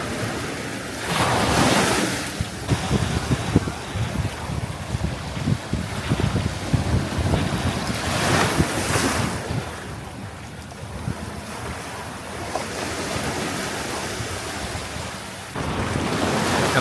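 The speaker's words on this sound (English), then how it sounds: "Oh no, oh, that's a big wave right there." Big ocean waves surge and crash against shoreline rocks, a broad roaring wash rising in loud bursts around two and eight seconds, with gusty wind buffeting the microphone throughout and no talk.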